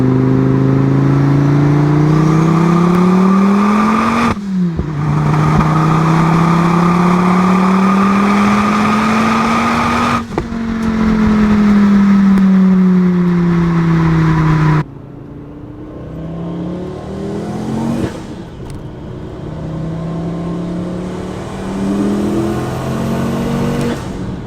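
A turbocharged five-cylinder Volkswagen with a 62 mm turbo pulls hard through several gears, its engine droning loud and rising in pitch in repeated sweeps, with abrupt drops at each shift and a steady cabin roar.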